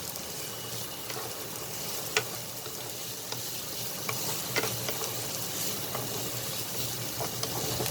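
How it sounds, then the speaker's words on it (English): Sliced onions frying in a pan for a pointed gourd and yogurt curry, a steady close sizzle with occasional light stirring scrapes and ticks, no talking. "I'll fry the onions till it becomes nice pinkish in color."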